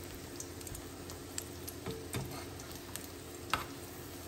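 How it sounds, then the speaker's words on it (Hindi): Kebabs fry in a pan with a soft, steady sizzle, broken by occasional light ticks and taps, close and fairly quiet with no talking. "तो ये यहाँ पे हो रहे हैं मेरे कबाब फ्राई"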